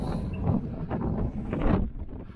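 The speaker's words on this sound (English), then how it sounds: "Sorry about the wind, but it's just the nature of the beast." Gusty wind on an exposed summit of a small fell, buffeting the microphone with a low rumbling roar that swells and eases in waves. Close and steady, with no speech.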